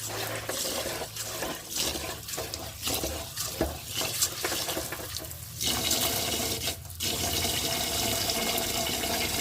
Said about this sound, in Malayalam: നന്നായിട്ട് അരി കഴുകാം